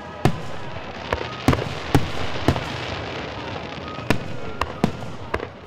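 Fireworks show exploding at an Independence Day event in Killeen, a series of sharp distant bangs and pops at irregular intervals over a low crowd murmur.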